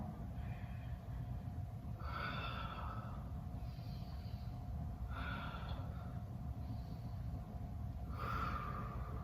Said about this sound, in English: Continue to utilize the fullness of your breath here